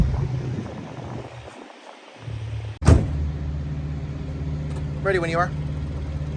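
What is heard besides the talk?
1985 Chevrolet Monte Carlo SS engine starting and idling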